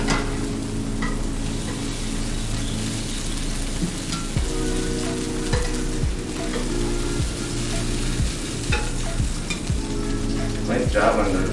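Mushrooms browning in a stir fry pan give a steady, close sizzle and crackle, with occasional stirring scrapes and clatters through the clip and no talking.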